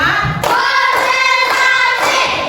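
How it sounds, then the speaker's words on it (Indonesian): A classroom of students clapping in counted rounds, loud sharp unison claps repeating at a steady beat, close and without talk. "Tepuk 1, tepuk 2, tepuk 3,"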